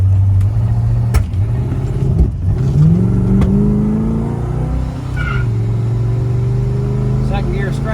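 A 1969 Pontiac GTO 400 automatic pulls away with a loud, close engine rise and a second-gear tire scratch, the revs climbing then settling into a steady drone, with voices over it.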